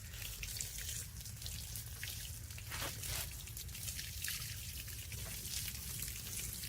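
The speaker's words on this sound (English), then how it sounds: "I'm gonna go ahead and water these in." Newly transplanted garden plants are watered by hand in a makeshift greenhouse, giving a faint, continuous trickle and patter of water on soil and leaves with no voices.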